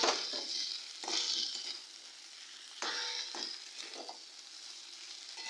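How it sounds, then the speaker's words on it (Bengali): Masala spices frying in oil in a pan for mutton kaliya cooked without onion, a close, soft sizzle broken by several scraping stirs of a spoon, quiet overall with no talk. "দেখুন মশলাটা দিয়ে খুব ভালো করে কষিয়ে নিয়েছি, পাশ দিয়ে তেল বেরোতে শুরু করে দিয়েছে।"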